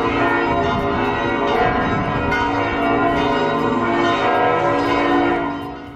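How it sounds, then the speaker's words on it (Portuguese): Church bells ringing in a Swiss town at the end of the day, a dense, continuous peal of overlapping metallic strikes and long resonant hum, loud and steady before fading slightly at the close. "Os sinos anunciavam o fim de mais um dia"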